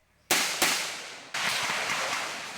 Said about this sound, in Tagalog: Matindi ang palitan ng mga putok.